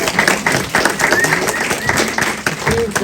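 Audience applause at a book talk ripples through the room, fairly steady light clapping of moderate loudness with a voice talking over part of it.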